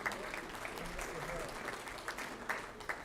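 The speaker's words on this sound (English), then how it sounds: "I'm not sure what you're applauding for" Audience applause fills an auditorium during a Kol Nidre service, a steady wash of clapping from many hands throughout, with a few sharper individual claps standing out near the end.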